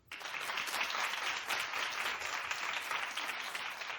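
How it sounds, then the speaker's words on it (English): A studio audience claps steadily for about four seconds, a dense, loud wash of applause with no voices over it. "clap if you did"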